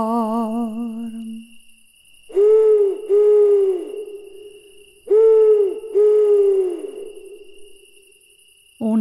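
Owl hoots come in two pairs of long, smooth, descending calls, loud and close, over a faint steady high tone, with a brief sung note at the start and end.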